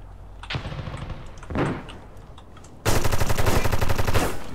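Gunfire in the video game America's Army: Proving Grounds, a couple of distant muffled shots followed by a loud, rapid automatic burst that rattles on steadily for nearly two seconds.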